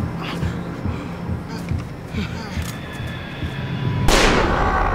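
A sharp single gunshot cracks late in a tense scene in the horror game The Quarry, following quieter ambient rumble and soft background talk.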